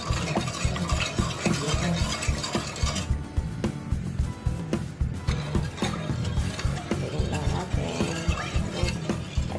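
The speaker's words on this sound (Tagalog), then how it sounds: "Haluin mabuti guys hanggang sa matunaw yung asukal dun sa pinakaloob." A spoon stirs vinegar and dissolving sugar in a pot for Ilocano-style atchara, with a steady run of quick scraping and clinking strokes, close and fairly loud.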